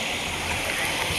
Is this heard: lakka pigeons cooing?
no